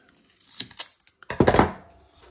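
Large scissors snip through wide adhesive tape in a sewing craft setup: a few light clicks and rustles, then one louder, rasping cut, close and alone without talk.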